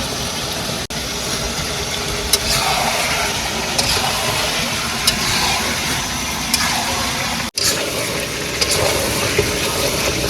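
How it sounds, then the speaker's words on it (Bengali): Meat sizzling as it is sautéed in a pan, a steady loud crackle over a low rumble with a few sharp clatters. "মাংস ফুল কষানো হয়ে গেছে"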